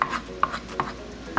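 A knife cuts vegetables on a board with four crisp, evenly spaced chopping strokes, close and moderately quiet, with no talking.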